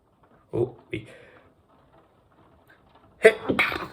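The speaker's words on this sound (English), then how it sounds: "Sorry, I just sneezed." A sharp sneeze bursts out close to the microphone, followed by a couple of softer breathy sounds and a short pause.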